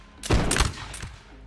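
Musket volley fire in the Napoleonic Wars video game: a sharp crackling fusillade of overlapping shots that bursts loudly, then decays into a rumbling echo, with a second, lighter crack following a moment later.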